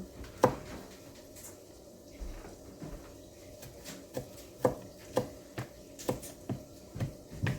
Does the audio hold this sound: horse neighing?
no